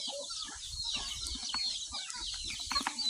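Native chickens cluck softly on a provincial farm as they wait to be fed. Short, scattered calls rise from the flock amid faint background hiss.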